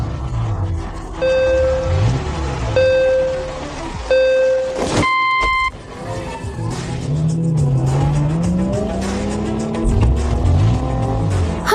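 Race cars tear around a city street track, engines roaring and revving with repeated tire squeals and skids, loud and close, with a few short tonal beeps early on.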